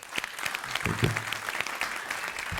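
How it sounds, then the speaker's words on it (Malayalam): A studio audience claps at a comedy show, a brief burst of steady, close applause from a crowd with a faint voice under it. "അപ്പൊ എന്തായാലും പ്രശാന്തിന് ഒരു ഗംഭീര കയ്യടി"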